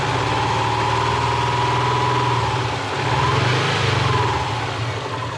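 A cheap, worn Subaru engine idles close by, a loud, steady rumble with an even low pulse and a slight dip and swell in level midway through.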